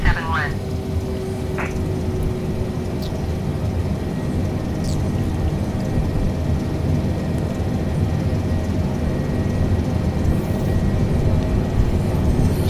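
A Boeing 747-8 airliner on landing approach gives a steady low engine rumble with broadband roar throughout, heard close from the cockpit, with brief beeps and clicks on top and someone talking over it.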